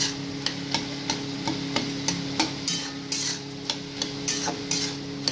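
Ash gourd curry stirred in a pan, a spoon scraping in a regular rhythm of sharp clinks and scrapes over a soft, constant sizzle, with no voices.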